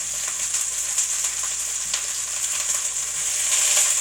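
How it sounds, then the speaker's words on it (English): Cauliflower sizzles steadily in a hot pan, a close, continuous crackling hiss with small pops. "we're going to put our cauliflower in here. We'll put one. Oh, there we get a little sizzle."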